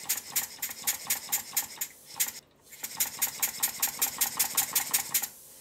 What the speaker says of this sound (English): the engine starts to run